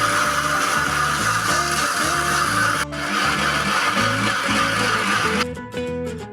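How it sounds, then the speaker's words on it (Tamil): A kitchen mixer grinder blends mango flesh with sugar, a loud continuous motor whine with a pulsing churn that cuts off abruptly near the end. "இதை ஒரு வாட்டி மிக்சியில் அடித்து எடுத்துகிட்டு வந்துடலாம்."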